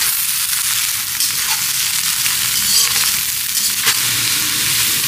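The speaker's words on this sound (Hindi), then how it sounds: "गोभी को हरी मिर्चें और अदरक के साथ फ्राई कर लेंगे।" Cauliflower fries in hot oil with green chilies and ginger for aloo gobi, a loud, steady hiss of sizzling that carries through the whole stretch, with a few faint knocks.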